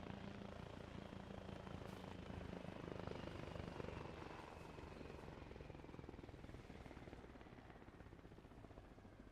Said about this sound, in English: There's a Russian helicopter on top of there.